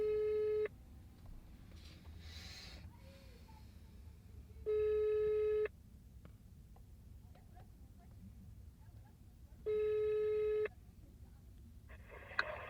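Phone ringback tone while calling a Carrefour supermarket security guard: three steady electronic rings, each about a second long and roughly four to five seconds apart, over a low murmur of background noise.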